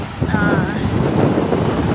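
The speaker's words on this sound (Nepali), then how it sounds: "हावा चल्यो खासै सुनिँदैन होला है म बोलेको" Gusty wind buffets an outdoor microphone on a trip between Ayia Napa and Limassol in Cyprus, a steady loud rumble across the whole stretch with a faint whistling tone early on.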